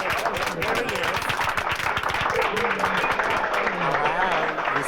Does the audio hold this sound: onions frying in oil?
no